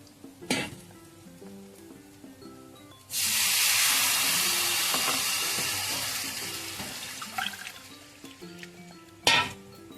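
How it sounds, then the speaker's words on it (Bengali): Measured water pours steadily from a cup into a pot of rice for peas pulao on a low gas flame, a bright rushing splash lasting several seconds, loud and close, with a few clinks before and after. "এবার আমি জলটা মেপে দিয়ে দেবো।"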